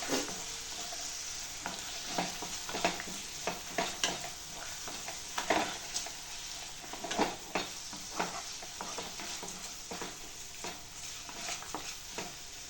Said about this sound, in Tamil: எல்லாத்தையும் சேர்த்து நல்லா மிக்ஸ் பண்ணிடலாம்